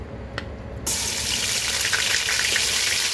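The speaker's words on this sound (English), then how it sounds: "I'm sauteing the ginger garlic paste" Ginger garlic paste sautéing in a pan for Dal Gosh: a loud, steady hiss and sizzle that jumps up sharply after a brief quieter moment and then holds without pause.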